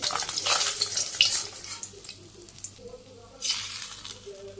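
Small fried fish go into a pot of curry with a bright hiss of sizzling and some stirring, which fades and then flares up again. The sounds are close, with faint background noise.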